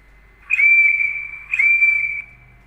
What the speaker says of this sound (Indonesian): sekarang kita dengarkan suara peluit ya